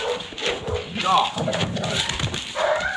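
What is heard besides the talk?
dogs barking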